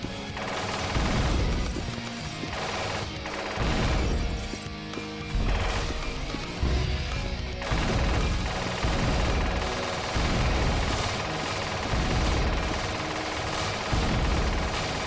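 A level 3 SMG fires in the video game A.R.E.S. in loud, near-continuous rapid bursts with crashing impacts, dense and unbroken over the whole stretch, with no talking.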